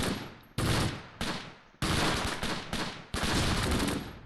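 Heavy bursts of automatic gunfire rattle in a Close Combat World War II strategy game, with five or six loud volleys separated by short gaps and no talking.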